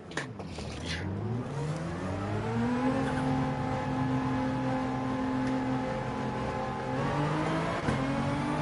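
Nissan GT-R race car engine in a racing video game, a steady loud drone that climbs in pitch through the first seconds, then holds a sustained high rev, with a short shift-like dip near the end.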